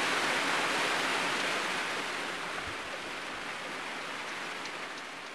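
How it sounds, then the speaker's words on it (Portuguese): Heavy rain pouring down in a riverside Brazilian setting, a dense, even hiss of falling water that stays steady and fairly loud throughout, with no voices. "Agora a chuva."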